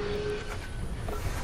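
Train ride in Assassin's Creed Syndicate, with a steady rumbling, rattling rail drone throughout the short stretch, close and continuous with no talking.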